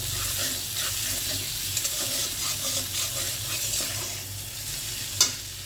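Food sizzles steadily in a hot pan while a utensil stirs and scrapes through it, close and continuous, with one sharper clink of metal near the end.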